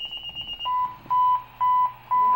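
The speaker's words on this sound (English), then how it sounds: "Fire alarm" A fire alarm sounds as electronic alert tones: a brief high warble, then three long, loud, evenly spaced steady beeps with gaps between them.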